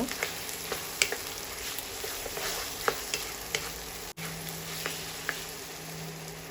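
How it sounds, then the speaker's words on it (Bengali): Ginger garlic paste sizzling and being stirred in a pan for a chicken and potato curry, a steady fry hiss broken by regular scrapes of a spoon against the pan, with no voices. "কিছুক্ষণ নেড়ে আমি আদা রসুন পেস্ট দিয়ে দিয়েছি তিন চার মিনিট নাড়তে হবে"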